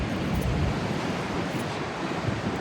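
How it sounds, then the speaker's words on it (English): Strong wind roars and buffets the microphone on a cold beach on England's south coast, a loud continuous rush with surf blended into the noise and no voices. "It's so windy here."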